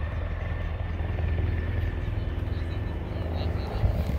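A helicopter landing at a lake gives off a steady, loud rotor and engine drone, heavy and continuous at close range with a slight swell near the end.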